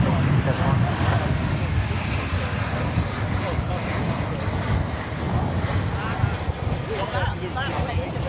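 An American Airlines jet comes in to land at DFW airport, a broad steady roar with wind buffeting the microphone outdoors, heard from a distance throughout.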